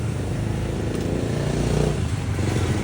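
A Yamaha Aerox 155 scooter engine idles unevenly with a faulty idle speed control, a steady close low mechanical drone with light clatter and no speech.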